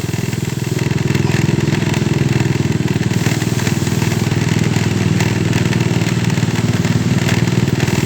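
A motorcycle cruises along a road near town, its engine droning loud and continuous at a steady pace with light rattles and no noticeable gear changes.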